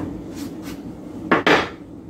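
A metal sheet pan being handled, giving a couple of soft knocks followed by two sharp, close clanks in quick succession, with no talking.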